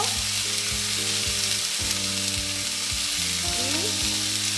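Salsa ingredients frying in a pan until browned give off a steady, dense sizzle that holds for the whole stretch, with a tonal musical backing running underneath.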